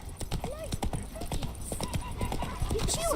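Horse hooves in The Witcher 3 video game, a rapid clip-clop trot repeating steadily, with a neigh and a voice speaking over it.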